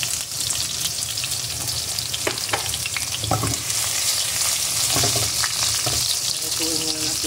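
Squid adobo frying in a pan, a steady close sizzle with scattered pops and a few clinks of a utensil stirring, continuous at even loudness.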